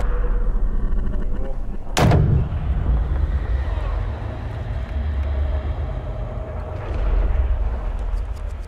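A golf ball struck in a PGA Tour video game, a single sharp crack of the club near the start that rises above a steady low bed of game ambience and crowd murmur.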